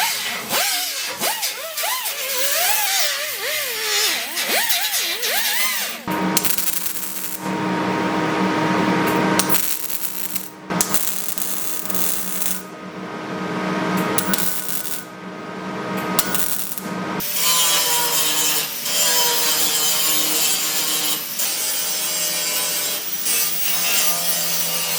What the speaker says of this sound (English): Now I grind the paint off.